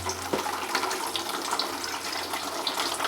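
Beer wort pours steadily from the valve of a 20-litre Speidel Braumeister into a fermenter, making a continuous close splashing and gurgling rush of liquid with no talk.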